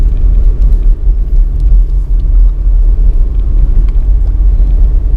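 Suzuki S-Presso city car with an automatic in low gear, climbing a steep spiraling parking garage ramp toward the rooftop, heard as a loud, constant low rumble of engine and road noise inside the cabin.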